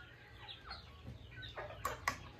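Soft, scattered clucking from a few chickens nearby, with a couple of sharper squawks near the end over a low background hum.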